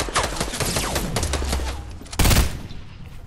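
Rapid gunfire bursts rattle through a Fortnite Battle Royale squad match, a dense fusillade of shots followed by a loud, close blast near the end, with no talk over it.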